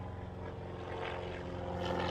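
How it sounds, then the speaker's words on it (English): A propeller airplane passes overhead during a home window installation, its steady, droning engine hum filling the background at moderate volume with no talking. "Always an airplane"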